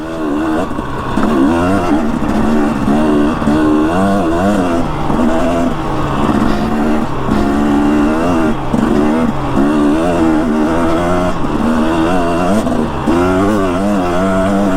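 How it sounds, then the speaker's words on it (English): Motorcycle engine on a ride as the rider eases off the throttle, a loud close steady drone wavering in pitch throughout with wind rush, no talking. "You just gotta let off the throttle."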